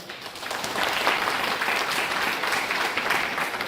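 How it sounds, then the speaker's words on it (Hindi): An audience at a community program in Bargarh, Odisha breaks into loud, sustained applause, a thick wash of many hands clapping that swells after the first second and holds steady, with no talking over it. "इनके लिए जोरदार तालियां सर"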